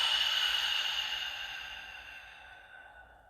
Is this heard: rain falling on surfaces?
no